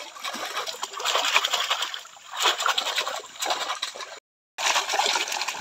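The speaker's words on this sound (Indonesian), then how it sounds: "airnya agak sedikit kecil, jadi agak susah kita mendulangnya karena airnya dangkal ya" Gold panning in shallow water produces rhythmic splashes and sloshing as the pan is swirled, in close, repeated surges with a brief gap near the end.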